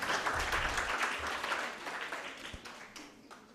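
Audience applause at a moot court competition final, a fairly quiet, diffuse clapping that fades gradually over a few seconds, with faint room noise and no talking.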